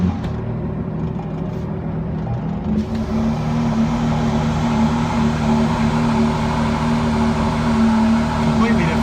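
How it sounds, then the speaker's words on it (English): A 2019 Ford GT's engine idles and runs steadily at close range, a strong low rumble holding throughout with a rising note near the start, with some talk over it. "we are now in the new GT, so let's fire her up"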